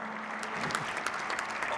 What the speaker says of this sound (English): You can clap hands for Bein